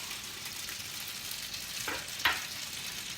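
Koshari being mixed as it fries in a pan, a steady close sizzle with two quick spoon scrapes near the end.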